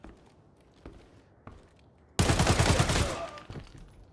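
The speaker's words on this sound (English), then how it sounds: "Missed my first few bullets there." Gunfire in the shooter game Arena Breakout Infinite: a few scattered single shots, then a loud, sustained burst of automatic fire that trails off into lighter shots.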